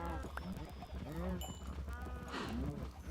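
Cows lowing in Minecraft, several drawn-out moos rising and falling one after another close by, under a low steady background hum.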